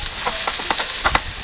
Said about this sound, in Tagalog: igisa ang bawang, sibuyas, luya